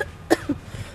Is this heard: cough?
yes